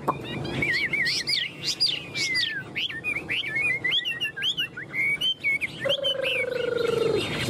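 A tame Chinese hwamei songbird sings loud, close, continuous phrases of varied whistles, trills and rapid chirps, with sweeping whistled notes rising and falling throughout and no talking.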